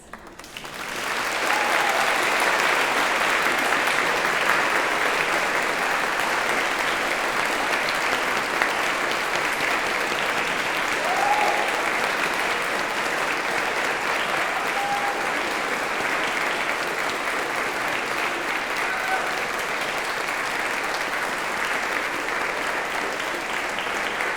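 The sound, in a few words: audience applauding graduates' supporters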